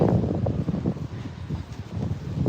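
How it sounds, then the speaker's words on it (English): Gusty wind buffets the microphone on a city street on Manhattan's Upper West Side, a steady low rumble with fluctuating bursts and no voices. "it's getting a little windy"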